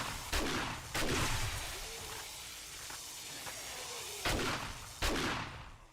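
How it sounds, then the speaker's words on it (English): Shotgun blasts in the zombie survival game 7 Days to Die, four sharp booming shots in two pairs, the first two at the start and the last two near the end, separated by a quiet, hissy gap. "Alright, try the shotgun."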